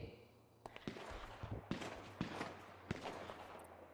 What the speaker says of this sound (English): What is that shooting going on?